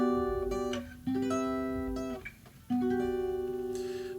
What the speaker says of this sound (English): So that's the sound of drop 2 voicings.